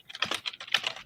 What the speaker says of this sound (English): can hear you typing.